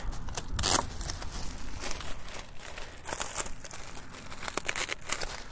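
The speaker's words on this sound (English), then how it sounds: "let's go ahead and undo the tape off the bag." Tape is peeled and pulled off the plastic packaging bag of an Osprey Atmos AG 50 backpack during unboxing. Close crinkling, crackling and tearing sounds come in short irregular bursts throughout.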